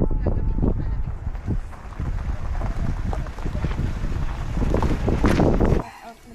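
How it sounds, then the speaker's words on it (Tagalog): Strong wind gusting hard against the microphone at a mountain campsite on Mount Kulis, Tanay, Rizal, in a heavy rumbling roar, with a voice faintly under it, dropping away abruptly at the end. "Lakas ng hangin, grabe."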